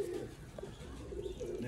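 A Bateray pigeon, a rare-quality bird, coos softly and steadily in low repeated murmurs, fairly close, with faint background noise and no talk.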